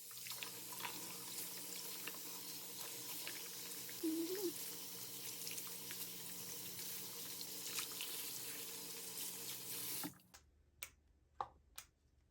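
Steady tap water runs and splashes for about ten seconds while washing a fashion doll's hair, then stops, leaving a few scattered drips and taps.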